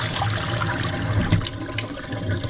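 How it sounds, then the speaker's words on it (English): Water runs steadily down a sink drain fitted with a new waste disposal, draining with a continuous rushing gurgle, close by, with no voices. "Run some water through it first."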